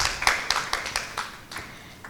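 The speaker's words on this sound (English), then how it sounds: "Give a big clap for her." An audience at a book event applauds the author with a short burst of scattered, fairly light claps that tapers off within a couple of seconds.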